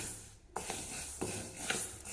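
Black urad dal roasting in a dry pan is stirred, giving faint, soft scraping strokes and light rustling at an uneven pace, heard close and quiet.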